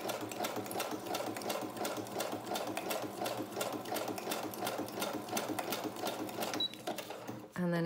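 A sewing machine stitches through fabric and paper in one continuous rapid run, its needle chatter even and close throughout, ending with a brief clatter.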